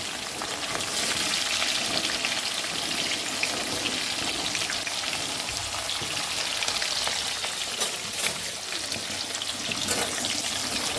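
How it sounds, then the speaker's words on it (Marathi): Onions sizzle in hot oil with whole spices, cloves, black pepper, bay leaf, shahjeera and cinnamon, for green egg biryani, giving a steady, dense crackle that holds level throughout with no voices. "आता आपण कांदा टाकून घ्यायला लागलो"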